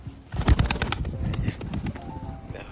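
Pigeons released outdoors burst into flight with a rapid flurry of close wing claps and flapping, fading into lighter beats as they move off, without talk.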